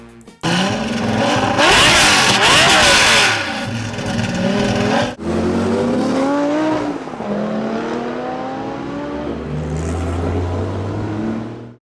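A high-revving Lamborghini 5-litre 90-degree V10 engine screams loudly and close, climbing and falling in pitch through several revs before settling into a lower, steady rumble.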